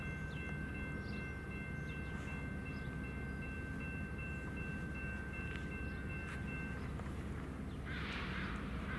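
A CP freight train backs container cars onto a loading dock at Mukilteo, a faint, steady distant rumble with a thin sustained whine running through it.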